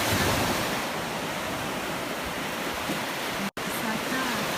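Mediterranean Sea waves at Scoglitti on a slightly choppy day, a continuous broad roar of surf mixed with wind buffeting the microphone, steady and fairly loud with one brief dropout, no talking.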